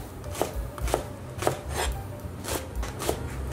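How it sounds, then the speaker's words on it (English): Knife chopping through leek on a board, about eight evenly spaced crisp chops in a steady rhythm, close and clear with no talking. "And we're going to start chopping this."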